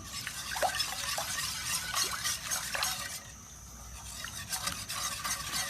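A whisk stirs cornmeal into hot water for soft polenta, giving a steady, close scraping swish with small liquid clicks and drips. It continues unbroken for several seconds, with a slightly quieter stretch near the middle.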